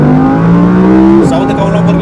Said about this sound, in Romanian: Se aude ca un Lamborghini V10.